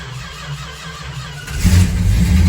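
A carbureted Dodge car engine cranks and catches at about the midpoint, then settles into a loud, rumbling idle with a brief rev.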